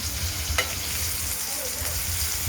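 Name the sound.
potatoes frying in pot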